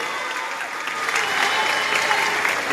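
A crowd at a campaign rally bursts into loud, sustained applause for a district candidate, a thick wash of clapping that swells slightly partway through.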